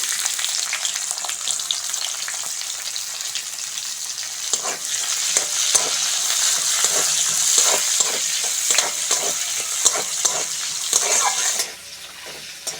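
Chopped onion hitting hot mustard oil with panch phoron for a Bengali fish curry, a bright loud sizzle with frequent scraping stirs that drops suddenly to a faint hiss at the end.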